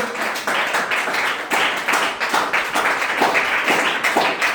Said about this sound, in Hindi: तालियों की गड़गड़ाहट इसी प्रकार बनी रहनी चाहिए